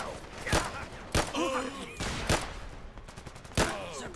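Gunfire in the post-apocalyptic game Fallout London: several heavy, loud shots spaced about a second apart, with whistling and ricochet-like tones between them over a dense battle background.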